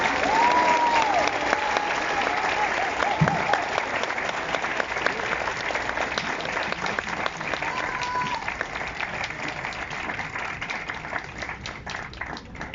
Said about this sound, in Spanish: Démosle un fuerte aplauso a Paco Ignacio Taibo II